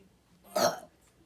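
A single short burp during a burping contest, a brief mid-loud burst under half a second long in an otherwise quiet moment.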